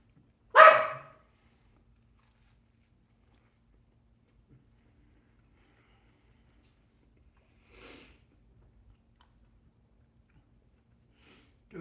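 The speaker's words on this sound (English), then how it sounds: "It's the two dogs." Two dogs bark at home: one sharp, loud bark up close, then two fainter, distant woofs after long silences.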